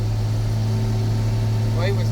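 Tractor with a 12-speed synchro transmission working a wheat field, its engine droning in a constant low hum close by, with a brief faint voice near the end.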